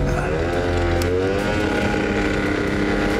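A Motowell Crogen RS scooter idles and rides in street traffic, its steady engine drone close and continuous with a low rumble underneath, and other vehicles faintly audible around it.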